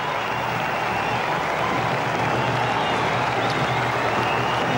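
Cricket crowd applauding and cheering as Sanath Jayasuriya reaches fifty in a Sri Lanka innings, a steady, dense wash of clapping filling the whole stretch at fairly loud level.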